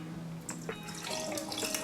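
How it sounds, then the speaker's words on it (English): Carrot and sorrel juice pours and splashes into a glass over ice cubes, with small clinks and trickles, close and fairly quiet. "have some cube ice in, so I'm gonna pour my juice"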